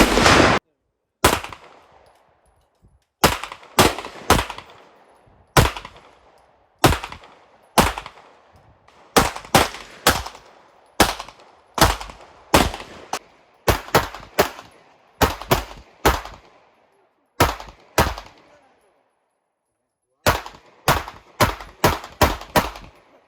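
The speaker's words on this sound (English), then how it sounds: "We just got to the range, about to try this Grind Hard Ammo 9mm." A 9mm pistol fires Grind Hard ammunition at a shooting range, loud sharp reports in quick strings of two to five shots separated by brief pauses, close and dominant, continuing for over twenty seconds.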